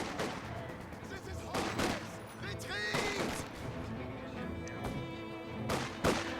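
Sniper gunfire in the WWII strategy game Company of Heroes 2: several sharp, separate rifle cracks ring out over a steady bed of battle noise.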